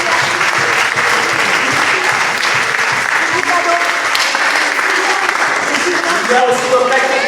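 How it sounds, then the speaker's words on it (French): A congregation in a French Catholic church applauds during a chaplaincy Mass, a dense, sustained round of clapping with a faint voice rising near the end. "Vous pouvez l'applaudir quand même."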